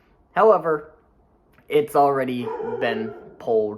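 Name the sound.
dog barking in the background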